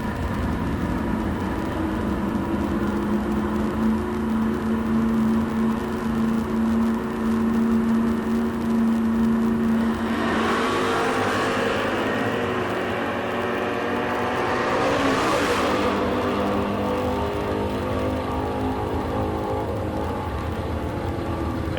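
A 1974 Chevy Nova makes a drag racing run, its steady engine drone broken around the midpoint by two loud, broadband roaring surges, likely launch and pass, heard from a distance with no voices.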